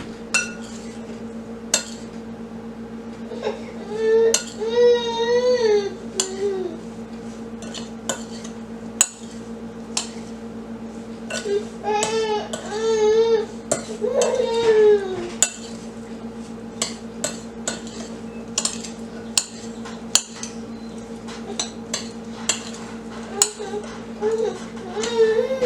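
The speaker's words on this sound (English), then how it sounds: "We're going to toss it all together so the berries are covered." Fresh wild blueberries being tossed and stirred with a crisp topping in a mixing bowl, with soft clinks of a utensil against the bowl and scraping sounds in short bursts under a steady background hum, while a person talks in between.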